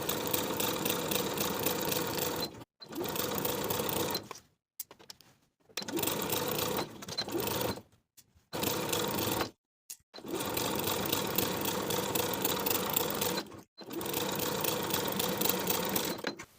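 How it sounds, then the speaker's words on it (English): A sewing machine stitching a blouse facing to the front bodice, running in several loud, steady whirring bursts separated by short stops. "Sew the outer edges of the facing in place to the front bodice with a 1/4 inch seam allowance."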